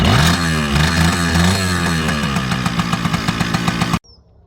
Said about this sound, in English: Kawasaki KE100, just kick it.